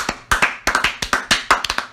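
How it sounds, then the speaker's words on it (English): Audience applause for a three-time champion at an off-season show: a few people clapping in sparse, uneven bursts of sharp hand claps, close and fairly loud, with no talking over it. "give him a round of applause"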